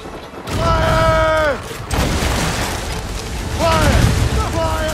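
Cannon fire hitting a ship in Assassin's Creed Rogue: heavy booming impacts and crashes at sea, mixed with shouting crew and game music.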